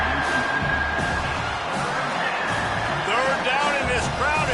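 Stadium crowd noise in the College Football 25 video game, a loud continuous roar swelling near the end with whoops, while a commentator's voice talks over it.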